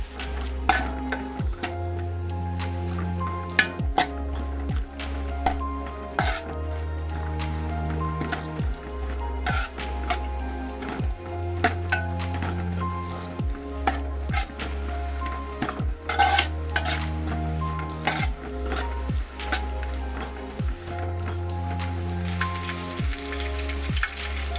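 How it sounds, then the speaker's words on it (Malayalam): Onions and curry leaves sautéing in hot oil in a pan, a continuous crackling sizzle broken by repeated scrapes and clinks of a spatula stirring against the pan, with a low steady hum underneath. "ആദ്യം കുറച്ച് എണ്ണ ഒഴിച്ച് നമുക്ക് സവാള, കറിവേപ്പില ഇതൊക്കെ എല്ലാം ചേർത്ത് നമുക്കൊന്ന് വഴറ്റിയെടുക്കണം."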